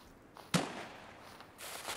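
A single sharp, distant gunshot cracks once in the video game Escape from Tarkov, standing alone over a quiet ambient background.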